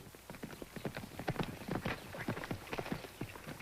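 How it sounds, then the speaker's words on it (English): Horse hooves clip-clop in an even walking rhythm, close by and moderately loud, with a light dusty scuffle between the steps and no voices over them. "there's a real horse"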